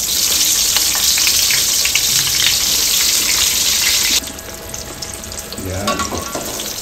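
Eggplant frying in oil already used for milkfish: a loud, continuous sizzle and crackle close by, which drops somewhat partway through and carries on steadily beneath a faint high whine.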